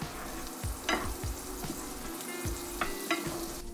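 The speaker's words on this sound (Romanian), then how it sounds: "Într-o tigaie încinsă punem o lingură sau două de unt și ulei de măsline." Butter and olive oil sizzle with chili flakes in a hot pan, giving a steady close frying hiss. Soft scrapes of stirring come in irregular pulses, with no voices.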